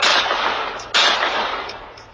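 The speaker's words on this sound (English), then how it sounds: "takes out a gun and aims for that home, shooting 15 times" Two loud gunshots are fired at a home, each a booming blast with a long decaying echo, the second about a second after the first.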